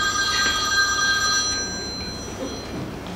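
A lost mobile phone in a red case rings in a conference hall, its electronic ringtone repeating for about two seconds before it fades into room noise.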